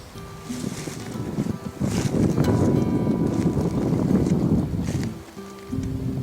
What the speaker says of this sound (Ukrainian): Хоча вітер посилюється.